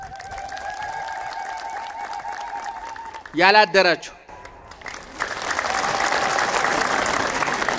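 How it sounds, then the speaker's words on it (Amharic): A church congregation at an Ethiopian Orthodox sermon claps in a short, loud burst of applause. Someone talks before and after the clapping. "ቤተክርስቲያን ማህሌት ያደራችሁ አጨብጭቡ እስኪ"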